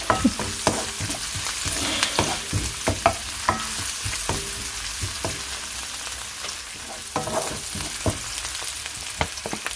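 Ginger frying in a hot pan for a Bisaya balbacua, a constant bright sizzle broken by repeated scraping and clacking of a stirring utensil, close and loud, with no voices.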